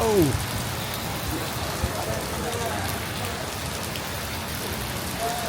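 Heavy rain during November's rainy season in Kuala Lumpur, Malaysia, a steady dense hiss of drops drumming on surfaces close by, continuous and loud throughout.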